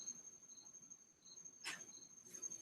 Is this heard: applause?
no